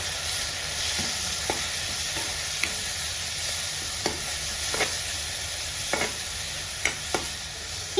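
Turmeric and masala powder stirred through hot oil in a pan, a steady low sizzle with scraping strokes of the spoon recurring every second or so, close and alone.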